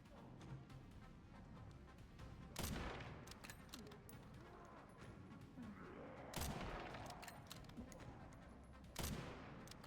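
Gunshots in the Resident Evil Requiem video game: three sharp, isolated shots spaced a few seconds apart, standing out over a quiet, murmuring in-game background.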